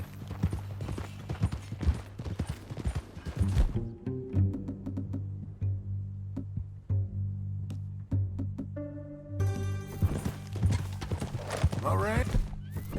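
Horse hooves clip-clop steadily in Red Dead Redemption 2, a close, even rhythmic trot running through the whole stretch beneath ongoing spoken dialogue and faint musical tones.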